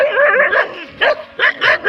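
Dogs bark at night in a string of loud, close, yelping barks and whimpers, coming in short uneven bursts.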